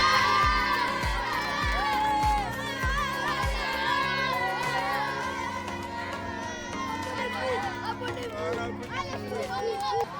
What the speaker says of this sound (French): Pour eux, on fait un tonnerre d'applaudissements